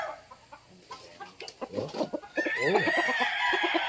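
Chickens on a farm give scattered clucks that build into loud, close crowing from a rooster, while a man briefly exclaims in the middle of the calls.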